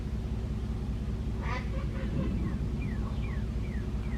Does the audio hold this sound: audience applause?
no